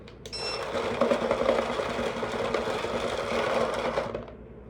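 A Dye Rotor R2 paintball loader fitted with a Freeflow Funnel runs its motor with balls feeding through, a steady close whirring drone that holds for about four seconds and then cuts off.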